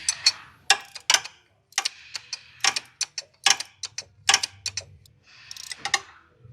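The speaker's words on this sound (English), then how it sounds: "Finish tightening this one down. My wrench will make it through this job." A ratchet wrench tightens a nut on a 2003 Monte Carlo valve cover, giving close, crisp ratcheting clicks in short irregular bursts with brief pauses between strokes.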